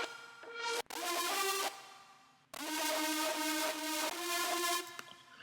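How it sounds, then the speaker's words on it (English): A dirty, distorted, detuned saw synth layer built in Serum for a future bass track plays sustained chords with a volume swell shaped by a triangle LFO, cutting off sharply twice before resuming loud and dense. "It's just this dirty saw layer."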